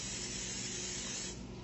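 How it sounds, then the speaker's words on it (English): A short steady hiss of cooking spray coats a baking pan for strawberry bread, close and alone in a quiet kitchen. "so I'm going to spray that one."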